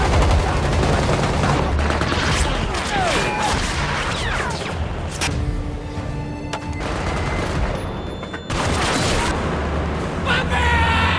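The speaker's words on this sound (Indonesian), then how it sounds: "Qabil pun langsung mengerahkan pasukannya untuk menembak dan inilah yang terjadi" Troops open fire in a film scene, with loud bursts of rapid gunfire, booms and crashes layered over dense dramatic soundtrack noise, continuous through most of the stretch with a brief dip near the end.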